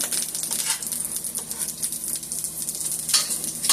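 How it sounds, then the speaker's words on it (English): Garlic and beef cubes sizzle steadily in a hot pan for stir-fried beef with cabbage, a close continuous crackling fry with occasional spoon scrapes and clinks against the pan. "Let my garlic cook down some."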